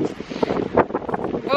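Wind gusts outdoors on a winter day while picking out a Christmas tree, roaring and buffeting the microphone in broad rushing bursts.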